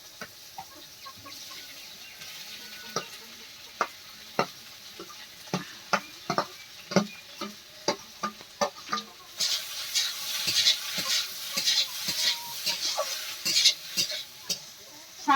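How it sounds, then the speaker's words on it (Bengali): Potatoes are tipped into a pan and stirred for an aloo dal, with a series of sharp clacks and scrapes from a spoon against the pan and a hissing sizzle that swells in the second half. Distant chicken clucks come through now and then. "এবার আলু দিয়ে দিচ্ছি।"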